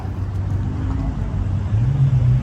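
Porsche 993 sports car passing at a Walnut Creek cars-and-coffee gathering, its engine note rising and swelling louder toward the end over steady low crowd and traffic rumble.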